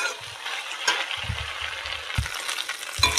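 Spice paste and potatoes frying in a pan for a tilapia curry with cauliflower, a steady sizzle broken by low scraping knocks of a spatula stirring at close range.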